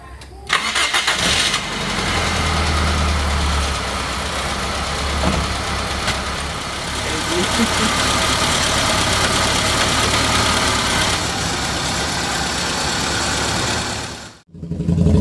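A Toyota KE70 car engine cranks and catches, then settles into a steady, loud idle that runs on evenly for several seconds before cutting out abruptly near the end, with no talk over it.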